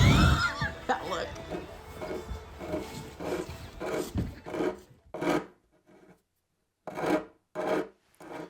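A hand file rasps off the sharp corners of freshly cut wood on a wooden boat, in a run of repeated scraping strokes that become separate, spaced bursts with short pauses between them.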